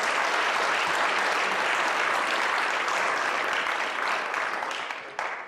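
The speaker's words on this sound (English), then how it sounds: "you deserve a round of applause" An audience applauds candidates at a Meet the Candidates forum in Holly, Michigan, with loud, sustained clapping from a full room that fades toward the end.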